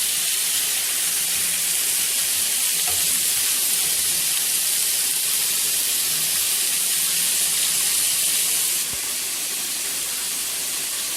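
Chicken tikka pieces on a grill pan hiss and sizzle continuously with a loud, broad steam-like roar up close, which drops slightly in level near the end, with no talk.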